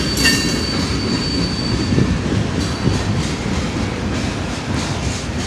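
Loud Norfolk Southern freight train rolling past close by, a dense continuous rumble with rail clatter and a thin wheel squeal, running unbroken throughout.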